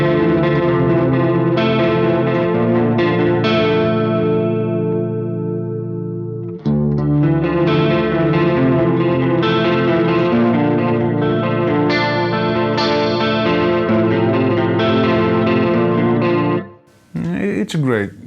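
An ENGL Savage 60 Mark II guitar amplifier pushing a high-gain metal tone, with dense distorted riffing that stops briefly midway, then resumes loud and unbroken until a short pause near the end.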